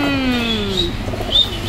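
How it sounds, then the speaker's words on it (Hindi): Pigeons at a new home cooing close by, with a few soft, low, drawn-out coos over a background hum. "और हमारे इधर यहाँ है कबूतर, हमारे छोटी मोटू।"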